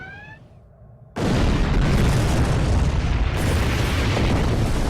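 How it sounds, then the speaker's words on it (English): In the Star Trek Online game, a torpedo is fired with a brief rising tone and then explodes in a sudden loud blast that swells into a long, dense roar and stays loud to the end. "fire torpedo."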